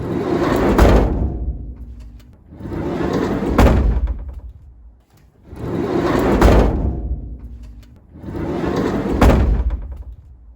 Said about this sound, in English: shutting that sliding door, because like I say, it's a big heavy door, you really have to slam it